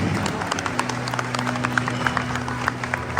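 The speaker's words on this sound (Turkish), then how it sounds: "Alkışlar gelsin." Wedding guests applaud at a nikah ceremony, continuous dense clapping from a crowd in a room, steady and fairly loud over a low hum.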